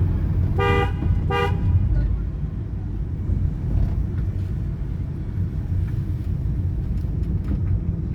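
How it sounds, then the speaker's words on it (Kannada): A car horn gives two short, loud honks over the steady rumble of the moving car during a driving lesson on a road. "ಹಾರನ್ ಮಾಡಮ್ಮ"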